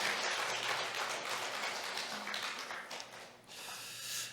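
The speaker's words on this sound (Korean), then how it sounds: "영광의 박수 올려드리겠습니다" A church congregation claps during a Wednesday prayer service, a fairly quiet, sustained patter of hands that thins out midway and then briefly swells again, with a low steady hum underneath.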